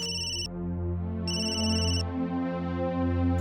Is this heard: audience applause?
no